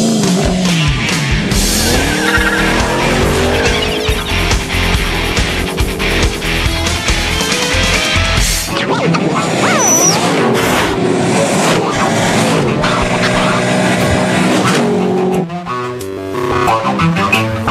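A Ford Mustang Shelby GT500 with a 5.8-liter supercharged V8 drives loudly and steadily throughout, its engine roar rising and falling as it accelerates and passes, mixed with a musical soundtrack.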